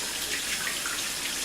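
Tap water running steadily over a lemon juicer being rinsed at a kitchen sink, a close, continuous hiss and splash.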